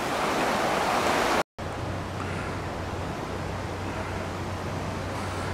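River water rushing through sluice gates at Ivrea, a loud, steady broadband roar of flowing water with a brief cut early on, then a continuous wash over a low hum, no voices.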